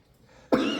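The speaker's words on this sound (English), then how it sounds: "I just picked up a little cough here, so please excuse that" A single short, throaty cough from a preacher during a church sermon, fairly close and clear against a quiet room.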